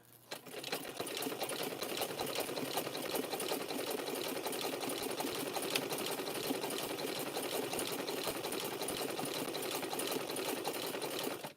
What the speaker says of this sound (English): I got a sewing machine as rare as I am.